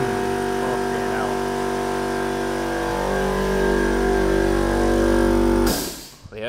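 An air compressor runs steadily beside a hot dog cart, a loud constant motor drone with a mechanical hum that cuts off abruptly near the end.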